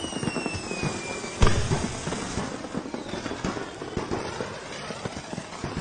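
Firecrackers crackle and pop during Diwali celebrations, with a loud bang at one point amid a dense run of sharp cracks near and far, and faint voices underneath.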